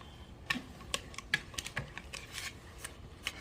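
Knox gelatin beaten by hand without a mixer for a lemon crumb icebox pie: irregular light clicks and taps, fairly faint and uneven in rhythm, with no talking.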